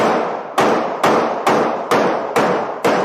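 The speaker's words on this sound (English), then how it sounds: "It's a lot of gunshots this time." Rapid gunfire at protest barricades at night, six or seven sharp loud reports spaced roughly half a second apart, each with a decaying tail, nearby and alone.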